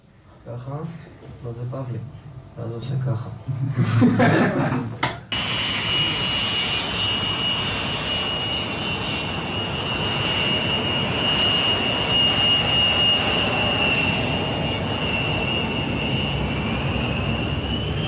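A Tzukit jet trainer's engine roars in flight as a steady, loud whine and rush, after a short stretch of someone talking.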